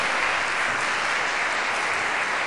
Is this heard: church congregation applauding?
yes